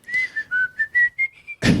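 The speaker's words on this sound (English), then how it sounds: "it's just like military whistling." A jaunty whistled tune of about eight short notes, close and clear, ending in a sudden burst of noise.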